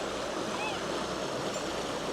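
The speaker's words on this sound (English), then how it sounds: "we can start opening the gate paddles" Water rushes steadily through the opened paddles of a canal lock gate, a loud, continuous broadband roar with a faint gurgle and no break.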